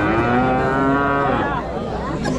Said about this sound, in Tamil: இது பசுமாடு அருமையான கலர்.